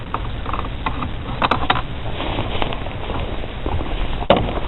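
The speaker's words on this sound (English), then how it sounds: "Grab my axle nut socket here, take it off the rest of the way." A socket turns a CV axle nut off a PT Cruiser, giving a continuous mechanical ratcheting and clicking with a few sharper metallic clinks, close and steady over a low background rumble, with no one talking.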